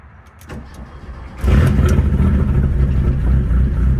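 A Mk1 Volkswagen Rabbit truck with an ABA turbo engine, left unstarted for about a month, cranks briefly and catches, then runs on with a loud, rough, close idle and mild revving.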